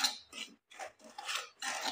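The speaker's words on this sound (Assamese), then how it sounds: "মই চাগুৰ গুড়ি বাটি এইদৰে ল' ফ্লেমত 5 মিনিট সময় ভাজি ল'লোঁ।" A utensil stirs ground sago powder dry-roasting in a pan over a low flame, making several close, rhythmic scraping strokes separated by brief pauses.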